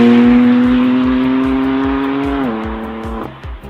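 A BMW M4 coupe accelerates hard on the road, its engine note climbing steadily through a gear before a quick shift, loud and close with a rhythmic pulsing underneath.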